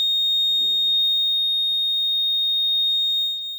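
An LPG gas leakage detector alarm buzzer on an Arduino-based detection system sounds a steady, piercing high-pitched tone that holds unbroken throughout, with faint handling noises underneath.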